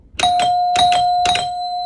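An electronic doorbell chimes, a ding-dong pattern repeated twice with clear ringing tones that sustain and fade slowly.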